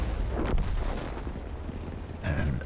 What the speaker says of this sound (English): puts a nice shot right in the commander's hatch side of the turret